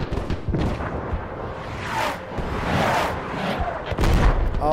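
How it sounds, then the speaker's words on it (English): Machine gun fire from Nord machine gunners in a Mount & Blade Warband mod battle, irregular bursts of booming shots and cracks, some near and some distant, overlapping amid battlefield clamor. "Oh, those Nord machine gunners."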